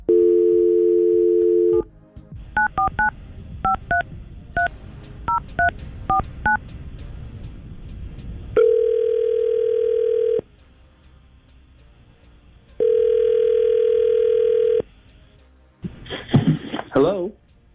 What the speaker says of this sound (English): let's see if we can get Seth on the phone right now